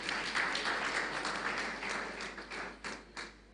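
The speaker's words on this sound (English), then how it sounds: "Please, a round of applause." A crowd applauds steadily, many hands clapping together in a dense wash that thins into scattered claps toward the end.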